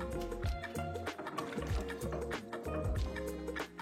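Water splashes and trickles in a beer bottle being rinsed during home-brew bottling, a close, steady wet gurgle lasting a few seconds with tonal background sound underneath.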